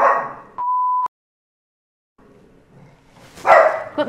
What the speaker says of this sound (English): Got the world's best guard dog. She's a Pomeranian cross silky. She's like this big, but has the roar of a German shepherd.